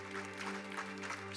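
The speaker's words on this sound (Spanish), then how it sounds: "Denle un fuerte aplauso al Señor esta noche." Applause from a church congregation during an evening service, a brief, fairly faint patter of clapping over a steady low hum.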